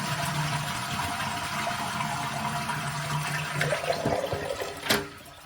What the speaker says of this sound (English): And we'll flush the toilet beforehand.